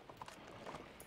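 Horse hooves clop faintly in a Red Dead roleplay video game, a few quick uneven hoofbeats at low volume over about a second.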